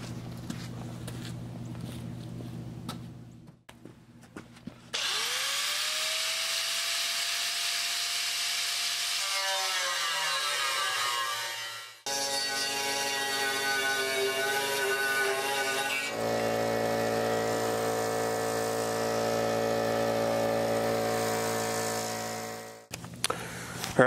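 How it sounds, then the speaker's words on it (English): Cutoff wheel grinding through a homemade steel bumper on a WJ Jeep, then an air saw squaring the corners: loud, sustained whining cuts with brief pauses between passes, close by and with no talk over them. "Gonna cut most of it with the cutoff wheel. Come back with the air saw and hit these corners"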